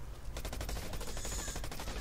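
Rapid gunfire in the shooter game Blacklight, a fast string of sharp shots at moderate level lasting about two seconds, with no talk.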